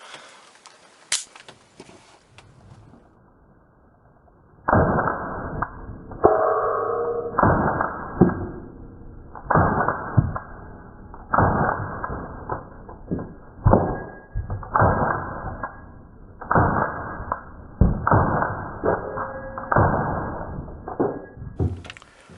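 A Star BM pistol fires Winchester White Box 115 grain full metal jacket rounds outdoors, a long string of sharp, loud reports in an uneven rhythm after a quiet start.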